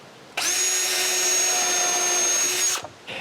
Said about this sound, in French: Je commence par visser celle au cadre mobile.